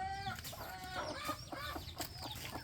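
A mother hen clucks sharply and repeatedly at close range, giving a quick series of agitated calls that is faint overall.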